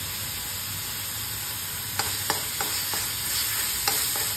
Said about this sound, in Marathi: मी आता हा मसाला छान असा भाजून घेते।